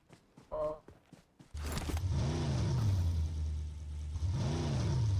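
A vehicle engine in a video game starts up and revs, a loud, steady mid-pitched drone with rising and falling rev sweeps, following a few short sounds that resemble a brief voice.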